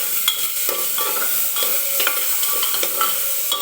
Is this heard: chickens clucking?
no